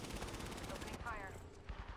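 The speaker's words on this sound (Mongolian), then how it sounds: "Opening fire." Rapid automatic gunfire in a shooter video game played as the character Horizon, a dense burst lasting about a second, followed by a brief game voice line.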